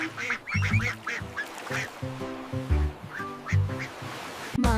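Duck quacks in a nursery rhyme song about five little ducks, set to a bouncy musical backing with repeated short melodic phrases and steady rhythm.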